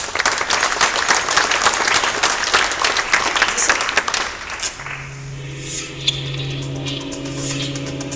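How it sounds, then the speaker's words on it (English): Audience applause at a talk event, dense, steady clapping for about five seconds that then stops, leaving a quiet room tone with a low hum. "But give them a round of applause."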